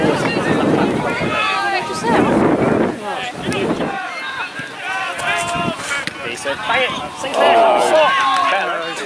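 Strong wind buffets the microphone at an outdoor football ground during a Yaxley FC versus Bedford Town match. The gusts rumble loudly beneath people talking throughout.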